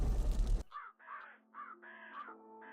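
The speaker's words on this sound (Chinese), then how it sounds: "是乌鸦叫。" A crow caws in a run of five or six harsh, rasping calls at a steady pace, moderately close and alone after a brief burst of noise at the start.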